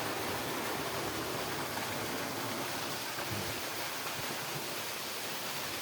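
Steady rushing water pours from the outlet of a CRI 3 hp DC solar pump running at midday on a farm well, a continuous broadband gush with no talk.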